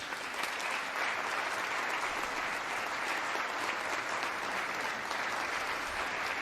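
Sustained applause from a large congressional audience during a presidential address to Congress, a dense, steady wash of many hands clapping at even loudness throughout, with no speech over it.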